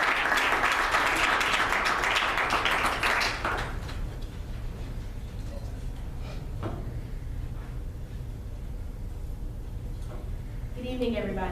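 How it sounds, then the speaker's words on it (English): Loud, dense applause from an evening audience greets a performer for the first few seconds, then fades into a quieter room murmur with faint movement before a brief swell near the end. "You guys please give her a round of applause."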